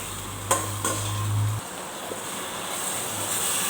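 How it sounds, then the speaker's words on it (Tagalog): Chicken backbone, gizzard and feet being stirred in a pot for tinola, making a couple of sharp knocks of a spatula against the pot and then quiet sizzling and stirring, close and fairly soft. "Haluin lang ng haluin natin yung backbone."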